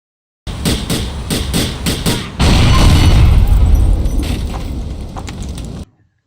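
A bus blowing up in GTA IV: a few sharp mechanical knocks give way to a sudden loud, sustained boom with deep low rumble, close and dominant, holding steady for several seconds before cutting off.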